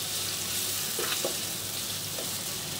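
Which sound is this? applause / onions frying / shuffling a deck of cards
onions frying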